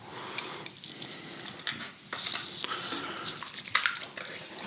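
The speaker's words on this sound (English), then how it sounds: "I'll just mix the first block in and then follow up with the second." Cream cheese block being mixed into cheesecake batter in a bowl, with wet squelching and scraping plus occasional clinks of utensil against the bowl, steady and close throughout.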